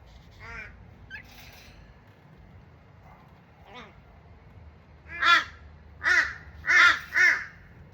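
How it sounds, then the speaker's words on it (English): A pet bird at home gives a run of loud, harsh, caw-like calls, with a few quieter calls early on and then four strong calls close together near the end. "You're not a woodpecker. Stop that. You'll hurt your beak, you mad bird."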